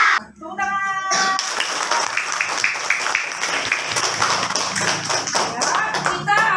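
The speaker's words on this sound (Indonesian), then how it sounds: "Tepuk tangan." Schoolchildren in a classroom clap their hands together in a fast, dense patter that starts after a short counted lead-in and keeps going loudly to the end, with a few voices mixed in.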